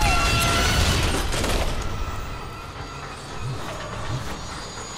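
A mine cart rolls along rails in the Deadpool video game with a steady rumbling, hissing clatter, loudest at first, then easing into a lower rolling drone with a couple of soft bumps.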